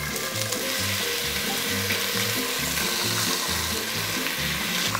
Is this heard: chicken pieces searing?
yes